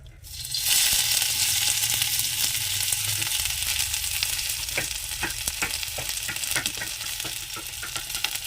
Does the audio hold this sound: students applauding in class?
no